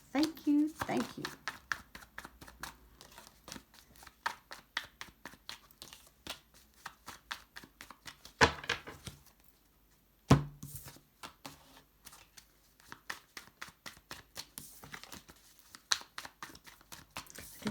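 Tarot cards are shuffled by hand in a quiet room, with a long series of soft, rapid riffling and tapping bursts, close and fairly faint, pausing briefly midway.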